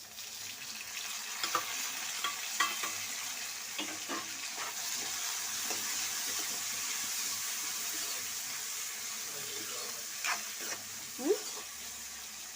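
Tomatoes frying for puffed rice upma, with a steady low sizzle and scattered scrapes of stirring in the pan, plus a few louder clinks near the end.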